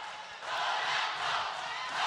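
A packed arena crowd roars steadily at a UAE Warriors mixed martial arts event in Mubadala Arena, a dense, continuous wall of cheering that swells slightly midway and carries no distinct speech.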